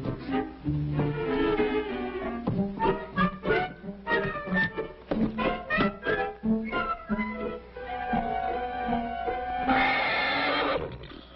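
A horse whinnies loudly and repeatedly, close by, in long quavering calls, ending with a breathy snort.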